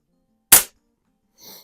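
Pump-action gel blaster firing a single sharp crack, followed by a faint short hiss or splatter a moment later.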